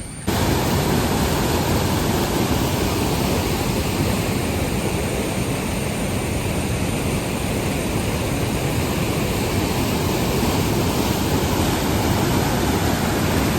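Water rushes loudly and continuously over a check dam, a dense roaring wash that stays constant throughout.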